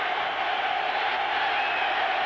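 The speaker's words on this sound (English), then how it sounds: "again, the crowd responds to the Jet defensive unit." Football stadium crowd roaring for the New York Jets defense during a 1991 game against Miami, a steady, dense wall of cheering and whooping that holds level throughout at a distance.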